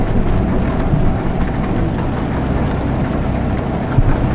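Rain drumming steadily on a truck's cab while driving in Euro Truck Simulator 2, a dense, continuous hiss and rumble mixed with low engine drone, loud and close throughout.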